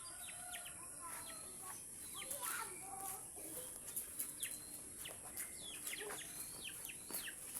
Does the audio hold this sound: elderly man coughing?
no